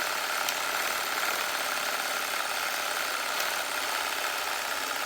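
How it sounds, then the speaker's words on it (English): A sawzall reciprocating saw runs continuously with a paint can held against it to shake it up, giving a loud, steady buzzing rattle with no pauses. "You hold the sawzall and just lay that in the bottom of your hand."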